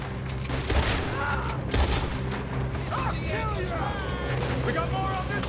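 Gunfire from a Red Dead Redemption 2 shootout crackles throughout, with two sharper shots standing out amid a dense, continuous battle din while voices shout over the fighting.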